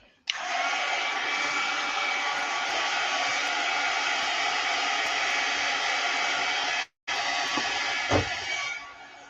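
A hair dryer blasts steadily over a mixed media art layer, loud broadband whooshing that cuts out briefly near the end, then resumes with some faint handling noise.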